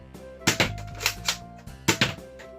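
Five Below HERO toy shotgun blaster loaded with big foam power darts, pumped and fired: sharp, close plastic clacks and pops coming in quick pairs a few times over a couple of seconds, with no talking.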